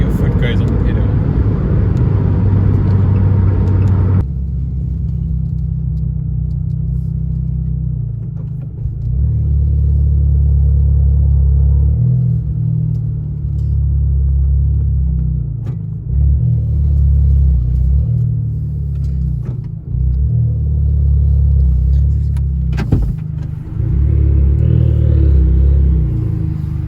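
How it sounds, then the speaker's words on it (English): An Abarth 595 engine during a cold start, with a loud low rumbling idle that swells into repeated revs and falls back again, close to the car throughout, with occasional talk over it. "I hope you enjoyed your fair share of the cold starts"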